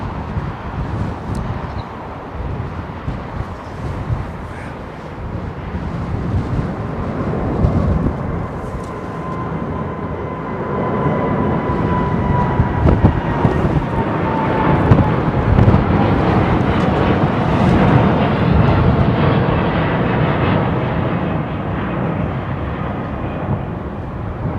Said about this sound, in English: Need to get your feedback on the engine sound from this Dreamliner standby.